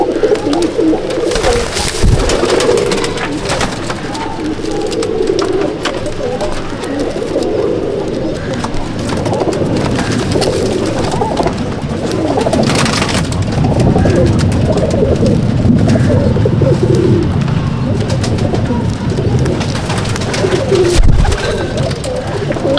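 Pigeons coo continuously inside a loft, many overlapping low throaty calls forming a busy, close chorus, with occasional wing flaps and scuffles and a voice speaking faintly beneath.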